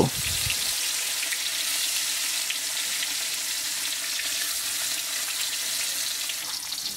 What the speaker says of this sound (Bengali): তেল গরম হয়ে গেলে ম্যারিনেট করা মাছগুলো দিয়ে দেব।